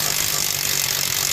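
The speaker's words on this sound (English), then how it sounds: "we're gonna install this with the 1/2-inch impact and just torque it to like 400 foot-pounds" A 1/2-inch impact wrench drives in a drain plug. A brief, loud burst of harsh rattling power-tool noise sounds close up and holds steady throughout.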